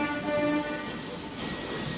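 At Charlapalli railway station, a train sounds a steady tonal horn, near and loud, then gives way to a rumbling mechanical drone.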